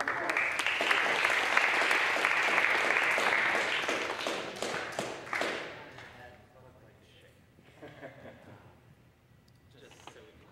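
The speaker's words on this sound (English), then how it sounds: "let's give him a round of applause." An audience at a brass music session breaks into dense applause to welcome the speaker, loud for several seconds, then thinning into scattered claps and murmuring voices before fading.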